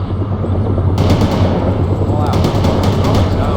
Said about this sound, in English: Bradley returning fire at hostile